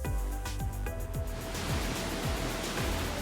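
Pacific Ocean waves at Lahaina, Maui, heard from a hotel room view as a steady, broad wash of surf with soft rolling swells, fairly quiet and continuous throughout, with no talking.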